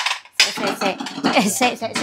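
Busy clatter of plates, dishes and cutlery clinking and knocking together in a home kitchen, loud and close, with a short pause near the start then repeated rapid clanks.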